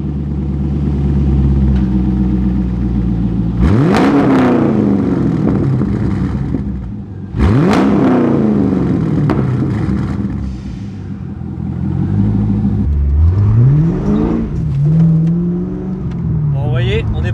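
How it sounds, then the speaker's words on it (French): A 350-horsepower Corvette engine starts and revs, with several loud, rising revs and falling throttle sweeps close by, while people talk over it. "c'est que tu nous la démarres pour qu'on l'entende un petit peu chanter"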